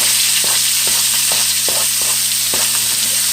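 Vegetables sizzle and fry steadily in a hot pan with melted fat, with periodic stirring clicks and scrapes every half second or so, loud and close with no talking.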